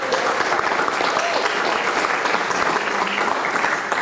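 An audience at a radio station awards ceremony applauds the staff, a loud, even wash of clapping that holds steady from start to finish.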